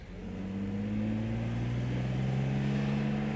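A 1970 Mercedes 280 SE Cabriolet engine running with a smooth, steady hum that swells slightly as revs rise, then holds evenly, heard from close by with no talk.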